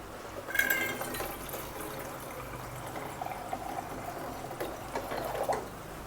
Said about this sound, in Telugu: దాంట్లోకి ఇంకా వాటర్ అయితే కొంచెం పోసుకుంటున్నాను